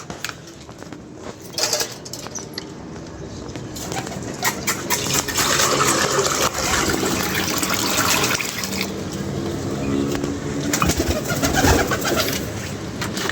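A pigeon coos softly and repeatedly, close by, over a continuous background of running water.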